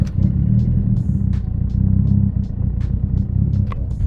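A rebuilt Mitsubishi Evo cruises lightly, its engine giving a steady low rumble with faint road clatter, close and continuous with no talking.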